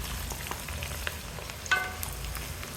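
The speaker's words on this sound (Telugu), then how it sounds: "ఎందుకంటే చికెను నూనెలో వేగాలమ్మా" Country chicken with onions and green chillies frying in plenty of oil, a steady low sizzle with soft crackles and a brief stir partway through, fairly quiet and close.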